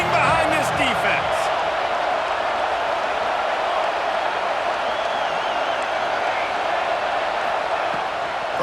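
A stadium crowd in EA Sports College Football 26 roars steadily behind the defense on a red-zone third down, a broad, continuous wash of cheering with a commentator talking over it.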